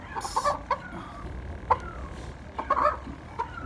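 A three-month-old Sweater Escolin line gamefowl clucks in a few short, scattered bursts close by, with quiet pauses between the calls.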